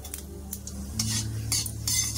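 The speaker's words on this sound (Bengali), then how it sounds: "তেল দেবো, একটু তেল দেবো, গরম হয়ে গেছে, অল্প একটু 5 ফোড়ন দেবো" Panch phoron spices crackle in hot oil in a kadai while making tamarind pickle, with repeated bright stirring scrapes and clinks of a spoon against the pan over a low hum.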